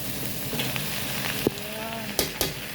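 Carrots and cabbage sizzling and frying in a pan for pancit guisado, a steady crackle broken by a few sharp clatters as the vegetables are stirred.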